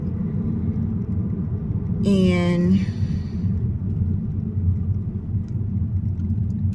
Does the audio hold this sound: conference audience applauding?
no